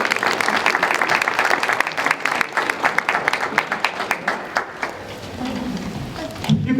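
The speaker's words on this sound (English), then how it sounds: "You can clap again." A crowd applauds a graduate at a high school winter commencement, dense clapping with scattered louder claps that thins and fades toward the end as a voice begins to speak.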